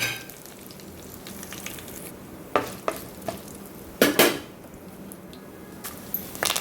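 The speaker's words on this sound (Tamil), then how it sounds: "அப்புறம் சோம்பு, பட்டை, கிராம்பு, ஏலக்காய், காஞ்ச மிளகாய் இதெல்லாம் போட்டுக்கிறோம்." Whole fennel, cinnamon, cloves, cardamom and dried red chillies fry in hot oil for a chicken kuzhambu, giving a soft steady sizzle broken by several sharp clinks and pops from stirring, with no talking.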